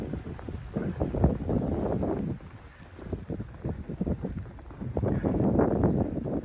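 Strong wind from a snowstorm in New Jersey roars and buffets the microphone in loud rumbling gusts that ease briefly, then build again, with no voices.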